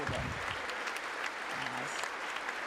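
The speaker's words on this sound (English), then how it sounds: "lawmakers applauding." US Congress lawmakers applauding in the chamber during President Zelenskyy's December 2022 address, a thick continuous wash of clapping from a large crowd with faint voices murmuring underneath.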